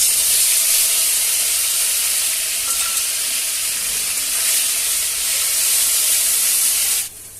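Onion, garlic and ginger paste dropped into hot oil gives a loud, dense, steady hiss of sizzling that holds for several seconds and then drops away suddenly, no speech.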